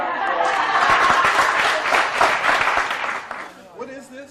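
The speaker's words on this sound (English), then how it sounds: "We have another round of applause." A round of audience applause at a historical society talk on 1930s toys, many hands clapping steadily and fairly close, tapering off as a voice begins speaking at the end.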